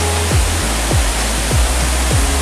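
Aek Martolu waterfall in Sibolga pours in a steady, dense roar of rushing water, loud and close, with no pauses across the short stretch.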